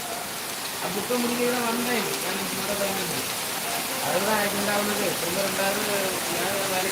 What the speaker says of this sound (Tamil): மழை நல்ல மழை